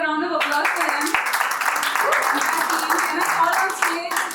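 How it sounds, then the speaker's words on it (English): An audience at a press conference applauds steadily and loudly, a dense crowd clapping that runs without a break and swells slightly near the end. "so let's have a round of applause for them."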